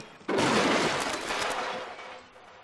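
A boss explodes in the Splatoon single-player game, a sudden loud blast that bursts in and then rumbles and crackles, fading gradually over about two seconds.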